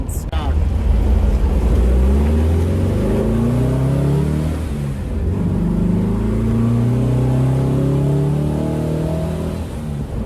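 A 1973 VW Thing's newly installed engine drones loudly while driving, its pitch climbing and settling through gear changes in a continuous, close, throaty hum, with occasional voices.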